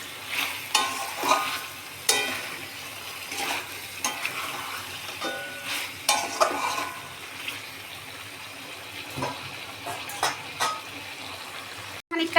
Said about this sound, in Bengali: আদা রসুন ধনে জিরের পেস্ট দিয়ে দিলাম। এখন একটু ভালো করে কষিয়ে নেব এটা।